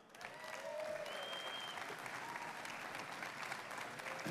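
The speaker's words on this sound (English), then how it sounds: "Give a big round of applause for David Frum." Conference audience at Politicon applauding a commentator as he comes on stage, a steady moderate wash of clapping with faint crowd murmur and a few cheers mixed in.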